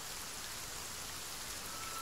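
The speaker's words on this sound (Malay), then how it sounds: "Kita dah masuk kawasan hujan" Steady rain falls in a jungle, a faint, even hiss of drops with no pauses or voices.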